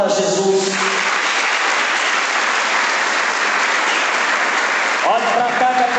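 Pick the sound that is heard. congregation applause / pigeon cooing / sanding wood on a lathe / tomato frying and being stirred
congregation applause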